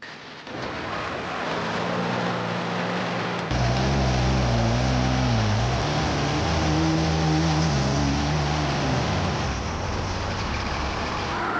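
An off-road racing vehicle, the Boosted Moose, drives the Havoc Hills course with a loud, steady engine roar that deepens and rises in pitch as it accelerates, close and sustained throughout.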